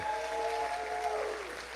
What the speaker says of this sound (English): So how about another round of applause for them?